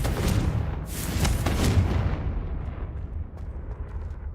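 A Confringo fire spell going off in Hogwarts Legacy, a loud, booming explosion with several heavy blasts in the first two seconds that fade into a crackling, rumbling tail.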